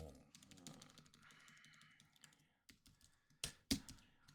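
Rapid computer keyboard typing during a coding session, a run of clicky keystrokes up close, ending in a few louder, sharper key strikes.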